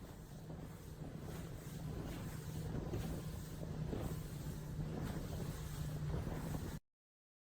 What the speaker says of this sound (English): This is what a professional racing sailboat looks like.